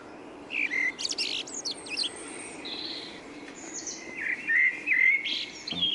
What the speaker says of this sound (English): Another blackbird.